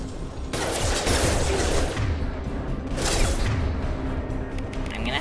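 Sustained gunfire from combat in Mass Effect 2 Legendary Edition, played with a controller: dense, continuous rattling shots with a louder surge near the middle, close and loud, no voices.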